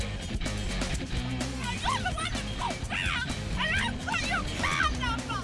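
A dog inside a moving car barks, yips and whimpers repeatedly in high, wavering bursts over a steady engine and road rumble, with a person talking at times.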